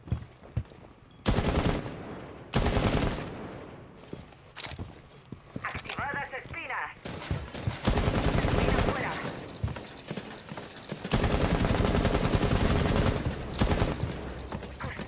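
Gunfire in Rainbow Six Siege, with loud close bursts of automatic fire alternating with brief pauses and clicks, while a player talks excitedly in Spanish between and over the shots.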